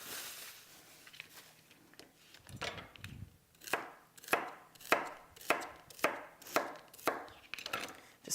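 Celery chopped on a cutting board with a knife, a run of about ten crisp, evenly spaced chops that grow steadier, close and clear with no talk.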